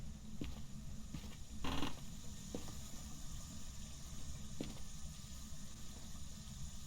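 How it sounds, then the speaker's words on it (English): Running water inside a haunted building in the game Phasmophobia, a continuous hissing stream under low rumbling ambience with a few faint knocks and clicks, no voices. "Oh, I hear running water already."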